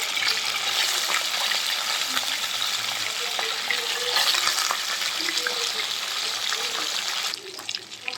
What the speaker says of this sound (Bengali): এখন আমরা একটা একটা করে পাবদা মাছটা ছেড়ে ভেজে দিই।